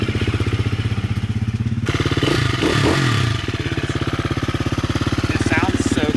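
Husqvarna FE350 motorcycle with its exhaust end screens removed, a throaty single-cylinder engine pulsing rapidly and loudly up close, revving briefly in the middle before settling back to a steady idle-like chug.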